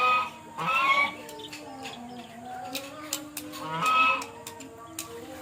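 Geese honk twice, a few seconds apart, in nasal, fairly close calls over a quiet outdoor background with faint scattered knocks.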